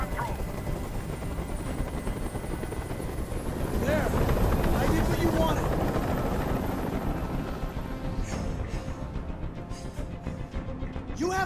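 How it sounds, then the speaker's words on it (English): A helicopter's rotor in the video game Detroit: Become Human thrums loudly and steadily, swelling as it passes close overhead, with faint voices in the background. "I can't stand that noise anymore! Tell that helicopter to get out of here!"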